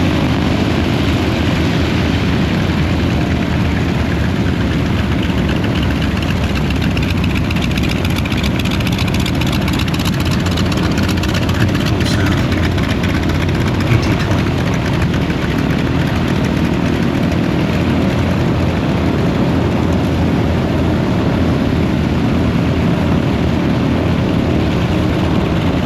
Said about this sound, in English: This is T-28's coming out from formation ride.